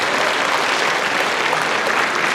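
Loud, even applause from an audience at a city mayor's town-hall meeting with citizens in Nonsan, a continuous roar of many hands clapping with no voices on top.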